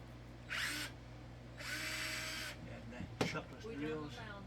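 A power drill drives screws into wood while installing a coax and power pass-through panel, two separate whirring bursts, the second longer, followed by a clunk and a voice speaking.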